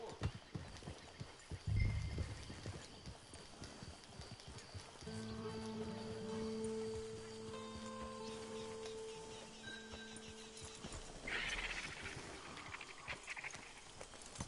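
Steady clip-clop of horse hooves at a trot in Red Dead Redemption Online, fairly close, with a soft snort near the start and a faint whinny later in a game-like ambience.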